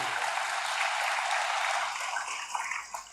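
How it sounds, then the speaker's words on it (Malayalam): Church congregation applauding for a priest, a steady wash of clapping from many hands, fairly close and continuous with no voices. "നല്ലൊരു കയ്യടി കൊടുത്തോളൂ നിങ്ങൾ."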